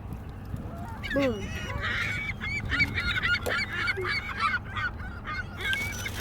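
A large flock of seagulls cries all around at close range, with many overlapping squawks and honking calls in a dense, continuous chorus and a single word spoken briefly.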